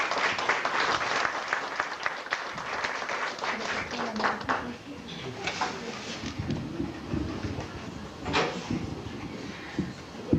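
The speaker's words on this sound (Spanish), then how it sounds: "Un fuerte aplauso," Audience applause at a Spiritist gathering in El Salvador, a lively patter of claps that thins out partway through with some murmuring and background noise mixed in.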